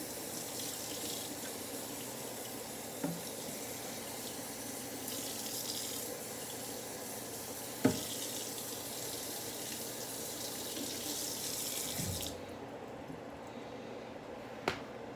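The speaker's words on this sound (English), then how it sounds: "I'll take this time to wash the knife. Don't have to wash it, just rinse it off for now." A kitchen tap runs steadily while a knife is rinsed under it, a close hiss of flowing water with a couple of soft knocks, before the water shuts off near the end.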